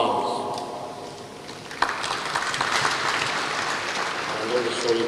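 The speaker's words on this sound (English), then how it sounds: "I clap the hands." Applause in a church conference session: a steady wash of clapping from a gathered crowd, moderately loud, with voices talking over it throughout.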